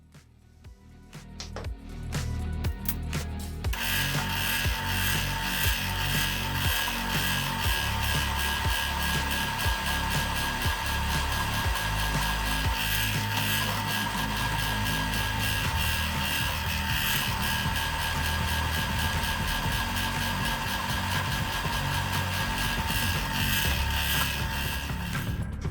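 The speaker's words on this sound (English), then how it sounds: "this is a counterboring tool, and this is what makes the stepped hole that I can put a cap screw in" A counterboring tool cuts a stepped hole for a cap screw on a machine shop setup: a loud, steady grinding whine with rhythmic chatter begins after a few seconds of quieter mechanical clicks and continues nonstop.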